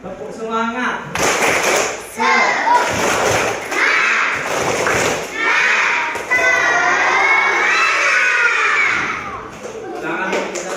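A class of schoolchildren performs a rhythmic clap-and-chant routine, sharp group claps punctuating shouted chanting in repeated bursts, loud and close, with excited voices throughout.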